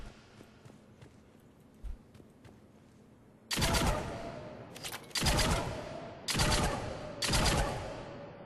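Incisor rifle fire in the video game Mass Effect 3 comes in four loud, close bursts of rapid shots separated by short pauses, preceded by a quiet stretch with one faint thump.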